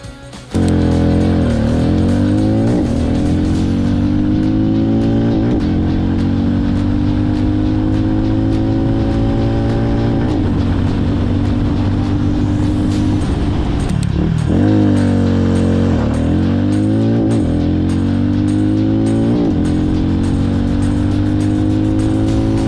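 A Hero Mavrick 440 motorcycle with a 440cc engine pulls hard in a 0 to 100 acceleration run, its loud close engine note rising steadily through each gear, with brief dips at the shifts and no talking.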